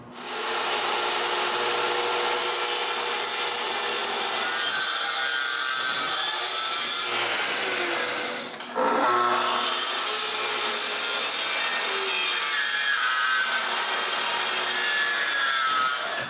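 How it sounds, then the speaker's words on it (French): A hand saw cuts through the corner of a wooden frame with continuous, close, loud rasping back-and-forth strokes, briefly pausing near the middle before resuming steadily. "Je suis donc capable de le couper avec la scie."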